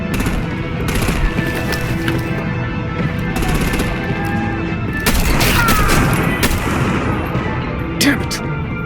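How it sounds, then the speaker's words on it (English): Gunfire and artillery in the Batman Telltale game, a dense, continuous barrage of rapid shots with heavy low rumble throughout, loudest and harshest around the middle, with faint voices in the mix. "Break out the artillery and disable their vehicles!"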